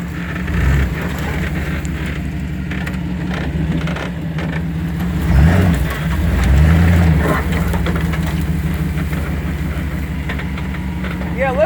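A two-wheel-drive Chevy truck idles and rolls along off road, its low engine rumble steady and close throughout while people talk over it.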